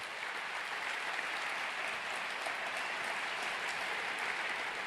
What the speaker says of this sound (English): Give yourself and the people around you a round of applause for showing up today.